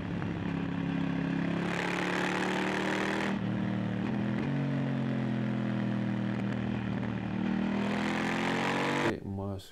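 A motorcycle fitted with an aftermarket exhaust revs and accelerates nearby, its engine note rising and falling through several pulls with a slightly metallic edge, loud and continuous until a sharp cutoff at the end.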